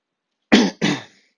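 Two quick, sharp coughs close to the microphone, the second slightly longer, with silence before and after.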